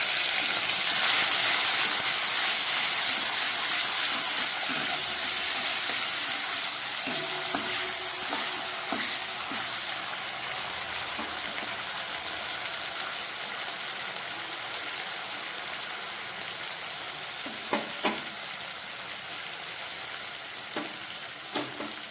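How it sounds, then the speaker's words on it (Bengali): Ginger and green chili paste sizzling in hot oil with cardamom, cinnamon and cloves for a potol korma, a steady close hiss of frying with occasional stirring scrapes and ticks against the pan. "আমি এবার এর মধ্যে দিয়ে দিচ্ছি পেস্ট করা আদা আর কাঁচা লঙ্কা"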